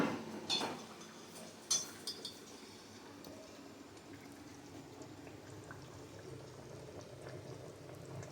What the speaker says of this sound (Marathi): थोडं बारीक गॅसवरती जास्त वेळाचं उकळलं ना छान टेस्ट अशी उतरते